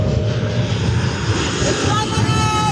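A Ryanair airliner passes low overhead near Mouse Island off Corfu, its engines a loud, steady roaring rush that fills the whole moment, with voices reacting beneath it.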